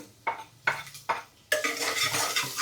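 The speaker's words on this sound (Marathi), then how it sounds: "मस्त परतून घ्यायचं आपल्याला" A spoon clinks and scrapes three times against a pan of garlic and onion being sautéed, then a louder burst of sizzling and stirring carries on close by, with no voices.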